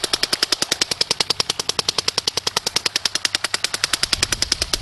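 A Dye NT paintball marker fires a long, steady string of rapid, evenly spaced sharp pops during an efficiency test, loud and close with no talking.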